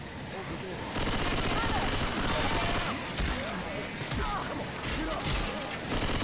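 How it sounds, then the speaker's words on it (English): Rapid gunfire in Left 4 Dead 2, bursts of automatic shots fired into teammates, dense crackling volleys starting abruptly and continuing with brief dips, with a voice talking underneath. "I'm shooting up my teammates"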